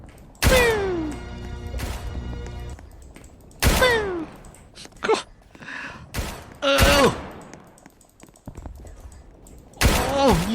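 Loud gunfire bursts from a shooting video game on a Titan map, several sharp shots and short volleys spaced irregularly through the stretch, with faint game noise between them.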